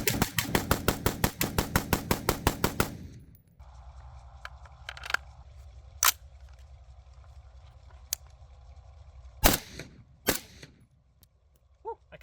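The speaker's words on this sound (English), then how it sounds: "Now I'm gonna burn some normal FMJ through it." A rifle fires full metal jacket rounds outdoors in a rapid string of loud, sharp reports, then stops; a few scattered single shots and clanks follow over a low background hum.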